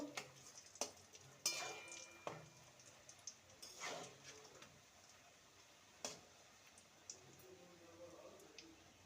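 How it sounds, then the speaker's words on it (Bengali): Bihari-style khaja pastries fry in oil over low to medium heat, a quiet bubbling sizzle broken by sharp clinks and scrapes of a spoon or spatula turning them. "লো টু মিডিয়ামে রেখে খাজাগুলোকে ভেজে নিতে হবে"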